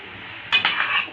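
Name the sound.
stirring potatoes, tomatoes, onion and carrots in a pot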